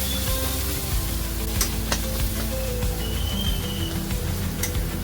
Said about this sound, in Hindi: डालकर आप अच्छे से मसालों को सॉटे कर लीजिए प्याज के मसाले के साथ